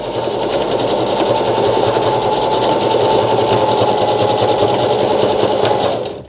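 A sewing machine runs a zigzag stitch on satin bonnet fabric, a loud, steady, rapid mechanical whir with fast needle ticking that holds evenly for about six seconds and then cuts off.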